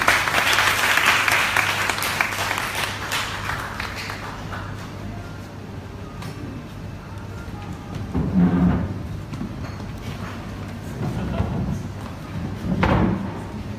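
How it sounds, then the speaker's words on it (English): Audience applause at an evening gathering, clapping loud at first, then easing into a lighter, steady patter with a few louder surges toward the end. "please give a warm round of applause to Paul and Ashley"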